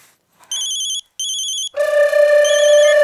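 A telephone rings in two short electronic bursts with a pause between, then a louder, continuous ring tone sounds nearby with no talking.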